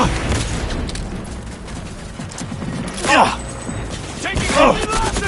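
Gunfire in the video game Cyberpunk 2077 rattles as rapid, repeated shots under a dense mechanical battle din. Shouting voices break in twice.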